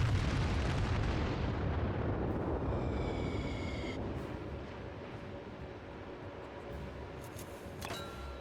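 Battleship gunfire in World of Warships aboard the Fuso, a deep booming blast rumbling and decaying gradually over several seconds, with faint higher game tones and clicks appearing as the roar fades.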